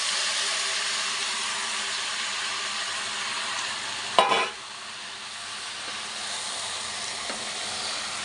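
A chicken masala mixture fries in a pan with a loud, steady sizzling hiss close up, broken once by a brief scrape of stirring before the sizzle carries on, with no voices.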